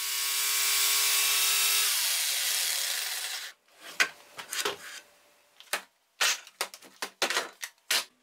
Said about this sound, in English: First, I cut the slot for the jigsaw blade.